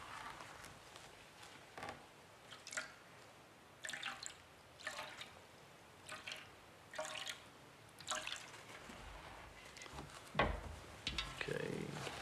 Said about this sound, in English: So we put the water on our hands and then we say the blessing.